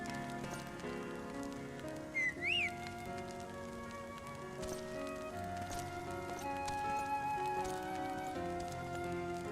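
Chocobo footsteps in Final Fantasy XIV trot along as a light, steady run of soft clip-clop beats under game music and ambient tones, with a brief chirping cry early on.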